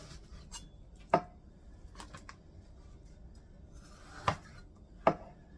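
A few sharp knife chops on a board, spaced irregularly against a quiet room background.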